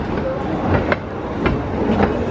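The Pleasure Beach Express amusement park train runs at Blackpool Pleasure Beach with a steady rumble and faint periodic clickety-clack of wheels, heard from on board.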